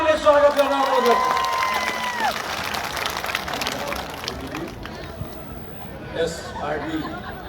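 Rally audience in Nepal applauding to welcome a speaker, clapping and crowd noise rising briefly after an announcer's voice, then fading to scattered claps and chatter.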